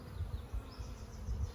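Honey bees buzz in an open hive during an inspection, a steady low drone that stays close and even throughout with no voices.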